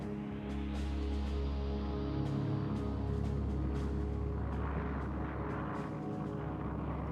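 A steady, dense roar of WWII American carrier aircraft engines sustains throughout as planes launch in strike waves, a broad continuous drone with low rumble and no pauses.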